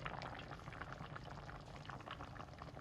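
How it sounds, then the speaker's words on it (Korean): Tomato soup simmers gently on an LG induction cooktop at medium-low heat, giving a soft, continuous bubbling with small pops, faint and close, with no talking. "이제 중약불로 오래오래 끓여주면 됩니다."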